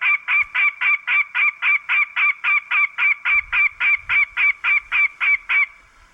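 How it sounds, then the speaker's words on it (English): A loud, close broadcast of a goshawk alarm call: about twenty harsh, evenly spaced cackling notes in a steady rapid series, standing alone before stopping. "that's a goshawk alarm like a call"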